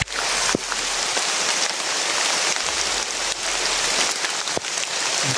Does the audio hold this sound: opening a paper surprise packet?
no